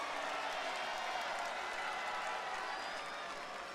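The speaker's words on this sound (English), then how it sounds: "Not as many cheers as he usually gets." A large wrestling arena crowd roars steadily for CM Punk's entrance on Monday Night Raw, a dense, continuous wash of cheers and applause with a mixed tone, holding at a constant distant level throughout.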